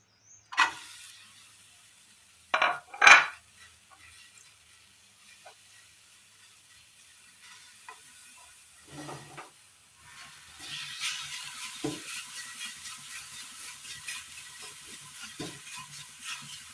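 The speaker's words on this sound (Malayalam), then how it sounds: "അതേ പാൻ തന്നെ അടുപ്പത്ത് വെച്ച് കൊടുത്ത് ഇതിലേക്ക് ചീര ഇട്ട് കൊടുക്കാം." Fresh spinach tipped into a hot pan on a stove and stirred for a Kerala-style recipe: a few sharp knocks, then a faint sizzle and soft scraping, with a steadier frying hiss building toward the end.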